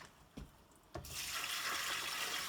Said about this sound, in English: At the start of the rinse cycle, I pause and add more water again.